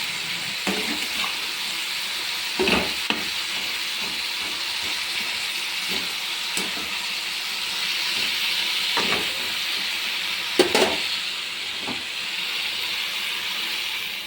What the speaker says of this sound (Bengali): আমি গরম জলটা দিয়ে দিলাম